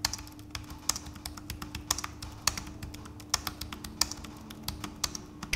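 Typing on a thin Logitech K380 wireless keyboard, a steady run of crisp, clicky keystrokes tapping out at an even, quick pace, close to the microphone with no voices.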